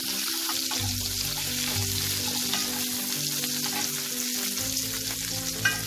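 Chopped onion frying in a pan until light brown, with a steady close sizzle running throughout and faint occasional stirring.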